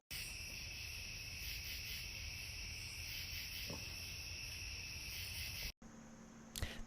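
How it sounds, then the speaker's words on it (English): Steady, dense insect buzzing fills the air at night, a constant high drone with a brief tick and a faint tone near the end. "That's our garden on a summer night. You can hear the cicadas."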